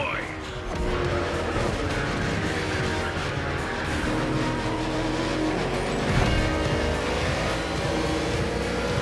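Race cars in The Crew Motorfest video game roar steadily as engines rev and hold high pitch through gear changes, a continuous loud drone with rising and falling whines, while a voice talks over it.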